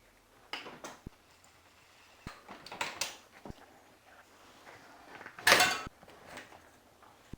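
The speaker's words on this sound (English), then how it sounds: "The first thing we have to do is remove the wheel from the bike." A bicycle wheel, the one carrying a Shimano FH-MT410 freehub, is taken off the bike with scattered mechanical clicks, knocks and rattles, one louder rushing burst near the end, in a quiet room with no talking.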